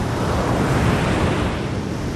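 Rough waves on the open ocean make a loud, continuous churning roar mixed with strong wind, unbroken for the whole stretch and with no one speaking.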